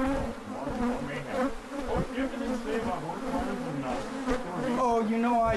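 A dense, steady buzz of a killer bee swarm in a horse stall fills the clip, many wings droning together at close range with a wavering, continuous hum.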